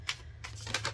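Tarot cards being shuffled make a few quick, close papery riffles and taps in short bursts, soft and dry against a low background hum.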